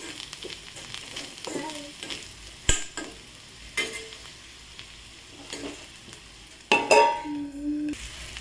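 Bombay duck fish frying in a pan, a steady soft sizzle with intermittent stirring scrapes and a few sharp clinks of utensil against metal, close and moderately loud.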